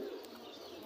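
Pigeons coo faintly at a busy Mirpur pigeon market, a soft brief murmur buried in dense crowd and market hubbub.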